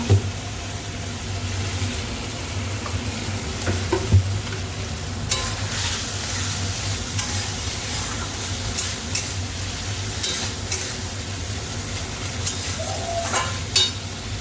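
Egg curry masala sizzles steadily in a pan while being stirred, with scraping stir strokes coming through over a continuous frying hiss and no talking.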